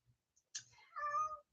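Pet cat meowing indoors: a soft short chirp followed by a clear, drawn-out tonal meow, quiet and close, with faint clicks before it and no talking.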